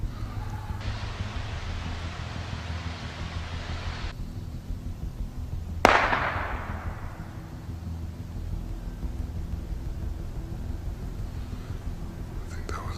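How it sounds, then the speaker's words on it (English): One sharp gunshot fired in the woods cracks through a steady rushing background, its echo trailing off for a couple of seconds, with quiet whispering around it. "Somebody just shot over into the woods."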